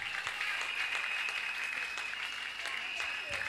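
A church congregation applauds in a sustained, dense patter of many hands clapping at moderate distance, holding steady for several seconds with a voice faintly audible underneath.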